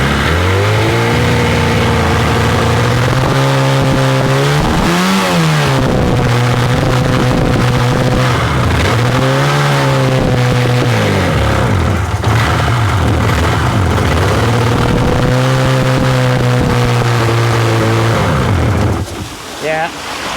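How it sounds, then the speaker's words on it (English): A Suzuki GSX motorcycle engine runs with the choke pulled out part way, a close loud steady idle that swells into several rising revs and settles back, with a person talking over it. "When I pull the choke out part way, then it runs good."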